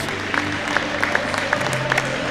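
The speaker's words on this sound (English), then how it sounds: "Good round of applause for Mr. Lofton." Applause from a crowd at a men's college basketball game between Elmhurst University and Greenville University, greeting a player, a steady wash of scattered clapping with occasional sharper claps throughout.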